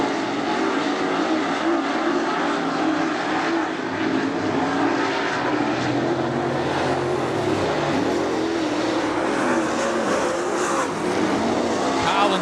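Race cars roar around the speedway at Attica Raceway Park in a dense, continuous engine drone that holds loud and steady throughout, with no breaks between passes.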